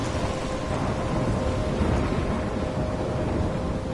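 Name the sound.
thunderstorm in the video game Life is Strange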